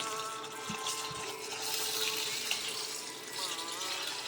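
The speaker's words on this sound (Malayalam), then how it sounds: "കുതിരാനായിട്ട് ആവശ്യമായ വെള്ളം നമ്മൾ ഇതിലേക്ക് ആഡ് ചെയ്യുകയാണ്" Water poured into a bowl of urad dal to soak, a steady faint splashing and trickling stream lasting a few seconds, with no talking.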